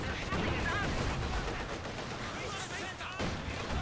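Gunfire in Company of Heroes 2 during a 1v1 match, dense crackling bursts and rattling shots running continuously, mixed with battle noise and talk.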